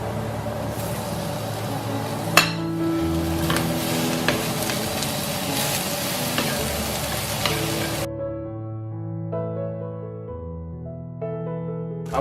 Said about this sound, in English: I'm going to add my other vegetables to the mixture, and I'm going to cook them for a little bit just to soften them